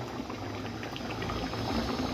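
Andhra fish curry simmers in a pot with a soft, steady bubbling and faint popping, quiet and close with no voices.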